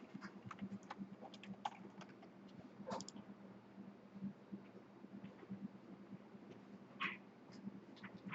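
Quiet keystrokes on a computer keyboard as code is typed, a rapid irregular patter of soft clicks with brief pauses, close but low in level, with no talk.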